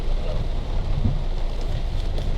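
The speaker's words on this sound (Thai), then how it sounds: "แต่ฝนยังลงมาเรื่อยๆ" Steady morning rain falls close by as a continuous broadband hiss with a low rumbling wash, unbroken for the whole stretch and with no voices over it.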